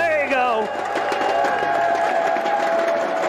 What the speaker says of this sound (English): And the crowd's apparently loving it.